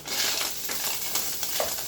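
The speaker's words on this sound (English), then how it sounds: "you can hear the sizzle" Ground meat sizzles steadily in a hot pan for tacos, a continuous crackling hiss with a few faint scrapes of stirring, close and fairly loud.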